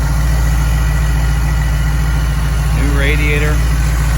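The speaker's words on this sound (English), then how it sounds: "Like I said, 425 Cadillac motor. Runs out smooth. Got some power to it." 1962 Chevy C10 with a 425 Cadillac V8 idling, a loud steady low rumble close by while someone speaks briefly over it.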